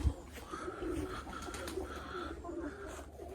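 Soft pigeon cooing, a few low burbling coos repeating close by over a quiet background with a faint thump at the start.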